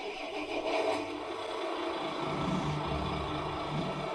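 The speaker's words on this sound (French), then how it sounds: "c'est pour démarrer le camion." A Tamiya Mercedes-Benz 4151 RC truck's sound module plays an engine start, a brief crank followed by a steady simulated diesel rumble. It stays close and even throughout and sounds alone, with no talking.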